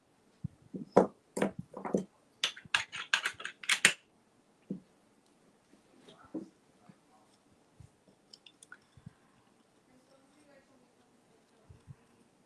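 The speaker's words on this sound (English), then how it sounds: "then we'll cut off these little tails" Little paper tails being cut off mixed-media layered Christmas ornaments: a quick run of crisp, close snips in the first few seconds, then only sparse faint clicks and handling noises in a quiet room.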